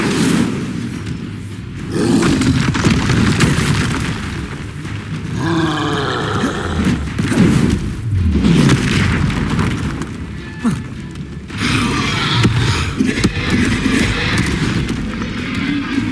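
A fire spell cast in the video game Hogwarts Legacy goes off as loud, dense roaring bursts and rumbling booms that swell and fade over a steady bed of game noise.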